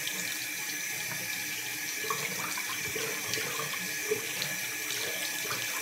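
Water runs steadily from a tap as dreadlocks are rinsed during a hair wash, a continuous close splashing flow with no talking.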